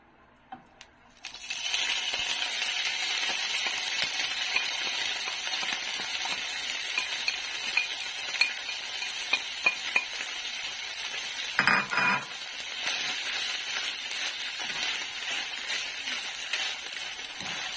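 Canned pork giniling sautéing in a pan for pork sisig: a steady bright sizzle starts abruptly and continues, with occasional scrapes and clinks of a utensil stirring the meat, no talking.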